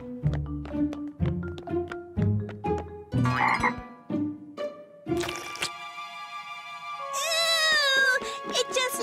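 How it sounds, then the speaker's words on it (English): A cartoon frog croaking in a series of deep, bouncy rhythmic croaks that turn into long, high warbling tones, loud and close, with no one talking over it. "It's just a frog."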